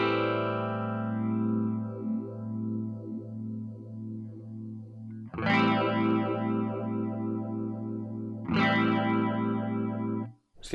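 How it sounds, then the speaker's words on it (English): Marshall MG2FX amp guitar with the phaser set faster, held distorted chords showing a rapid, regular whooshing sweep, restruck twice, loud and without speech. "But by turning it up now, you'll hear it speed up."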